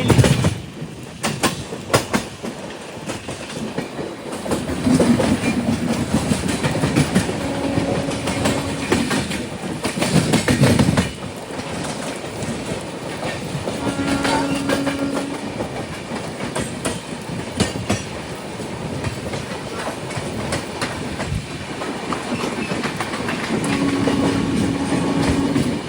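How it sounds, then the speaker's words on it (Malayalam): Humsafar Express train running at 130 km/h across the Godavari rail-cum-road bridge toward Rajahmundry, a steady continuous rumble and rattle of wheels on rails with recurring clickety-clack and brief tonal squeals, loud and close throughout without talk. "ട്രെയിൻ ഇപ്പോൾ 130 km/h സ്പീഡിലാണ് പോയിക്കൊണ്ടിരിക്കുന്നത്."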